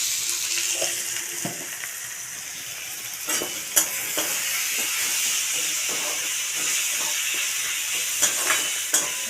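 Prawns with ridge gourd, potato, salt and turmeric cooking in a pan, a continuous bright sizzle and hiss with intermittent scraping stir strokes and a few utensil knocks, steady and moderately loud.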